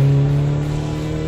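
Honda HR-V 2022 crossover's 1.5-litre 1500 cc petrol engine with automatic transmission hums steadily up close, a sustained droning tone holding even throughout.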